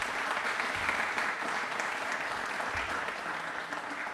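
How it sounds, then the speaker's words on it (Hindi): A studio audience applauds during a Republic Day quiz show, sustained, even clapping from many hands at moderate volume that continues throughout. "तालियां प्लीज एक बार जोरदार हो जाएं।"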